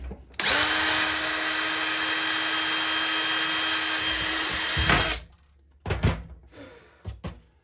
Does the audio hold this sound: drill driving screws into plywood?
yes